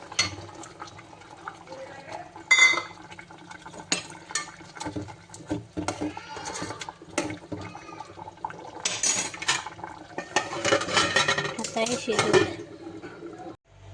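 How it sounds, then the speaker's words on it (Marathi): Dried bombil fish is dropped into a pot of boiling potato curry, with clattering pots and utensils and some liquid movement over steady kitchen background; a voice speaks intermittently. "आता मी हे बोंबील घालत आहे"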